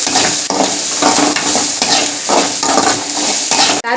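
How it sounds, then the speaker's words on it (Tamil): Ginger paste sizzles and crackles loudly in a hot pan while being stirred, for a sweet potato puttu dish; the steady frying hiss is broken by rhythmic scraping pulses of stirring, close and continuous with no talking. "இஞ்சி பேஸ்ட்டு கொஞ்சோண்டு சும்மா தவுளோடு தான் போட்டுக்கிறேன்"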